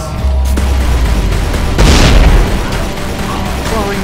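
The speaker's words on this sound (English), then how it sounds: "Ah! Exploding barrels." Barrels explode in the game Tomb Raider Legend, a loud blast over constant noisy game action, followed by a rumbling tail that fades back into the din.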